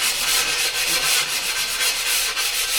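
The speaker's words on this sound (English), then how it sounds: "I use a rubbing pad on the edges" A rubbing pad scrapes back and forth along tile edges in quick, steady abrasive strokes, close and loud with no voices.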